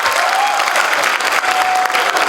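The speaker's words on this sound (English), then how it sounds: "can we have some claps for the dancers?" Audience at a college fest applauding dancers, a dense, loud burst of clapping from a large crowd that carries on steadily, with faint cheers mixed in.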